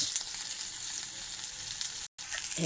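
Koi and bhola fish fry in hot oil after being flipped in the pan, giving a dense, continuous sizzle heard up close, cut by one brief dropout near the end.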